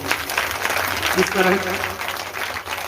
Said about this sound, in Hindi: जरा जोरदार ताली हो जाना चाहिए।